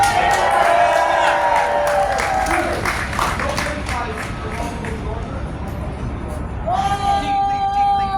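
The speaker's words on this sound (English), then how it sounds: "Can we get a big round of applause for 25 years for Open New York?" Crowd at an outdoor press conference on public toilets claps and cheers for an organization's 25th anniversary, a loud mix of applause, whoops and hubbub with voices mixed in.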